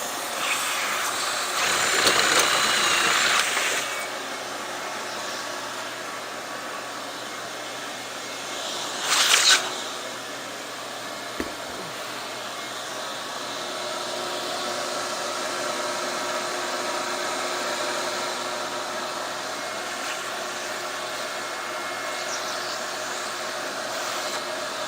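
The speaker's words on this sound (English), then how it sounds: "Vacuum out some of the chips." Shop vacuum cleaner sucking metal chips out of a machined tank part, a loud steady whine throughout, with brief surges and rattling of chips drawn into the nozzle early on.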